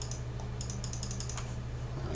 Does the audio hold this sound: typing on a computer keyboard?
yes